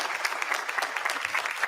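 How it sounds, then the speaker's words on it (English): Sparse, thin applause from a small audience at the first 2020 presidential debate, a steady patter of scattered hand claps that stays fairly quiet and unbroken throughout, with no voices on top. "These claps are so pathetic."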